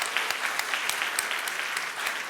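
A church congregation at a Sunday worship service applauds, dense, even clapping filling the room throughout.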